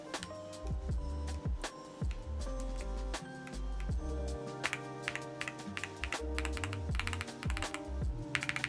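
Rapid clattering keystrokes on an ND104 computer keyboard, dense and irregular, close and fairly loud, with some heavier key thumps mixed in.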